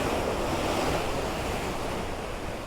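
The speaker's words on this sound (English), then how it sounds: "Powerful waves down there." Powerful ocean waves surge below a viewpoint near the Golden Gate Bridge, a continuous loud wash of surf mixed with heavy wind buffeting the microphone.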